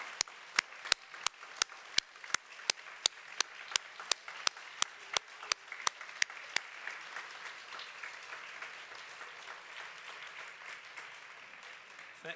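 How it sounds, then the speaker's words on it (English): A room applauds five-year service awardees at a university awards event: sparse, distinct claps ring out sharply at first, then blend into softer, fainter continuous clapping that gradually thins out. "we'd like to ask the 5-year awardees in the room to stand for a round of applause"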